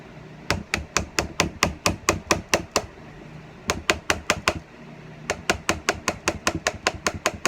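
A hammer strikes an aluminum pop rivet on a mask, flattening it in three quick runs of sharp, evenly spaced metallic blows with short pauses between runs, loud and close with no talk.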